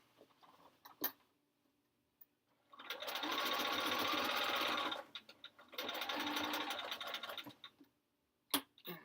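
A sewing machine stitches quilt blocks together for a sampler quilt in two sustained, rapid whirring runs separated by a pause, with clicks and handling noises before and after.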